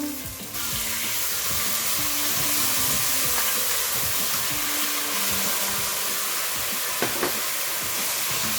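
Tomato frying in a pot for a Cameroonian potato hot pot, a continuous close sizzle and crackle after a brief stir at the start, with a couple of faint clinks near the end and no talk.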